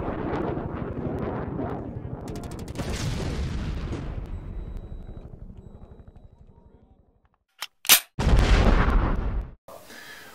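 An APS Thunder B airsoft grenade goes off with a loud, sharp boom, followed by a second burst and a crackling, wind-buffeted tail outdoors.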